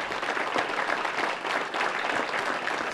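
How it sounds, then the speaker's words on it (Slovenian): Audience applause for the host at a Prlekija polka show at Sveti Tomaž, sustained dense clapping at an even level for the whole stretch, with no talk over it. "Dajmo en velik aplavz za gostitelja."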